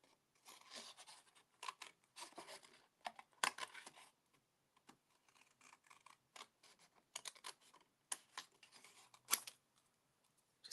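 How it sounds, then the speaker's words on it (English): Scissors cutting paper for a butterfly craft project, a series of quiet crisp snips and rustles in irregular bursts, close and faint with no talking. "But let's just cut this."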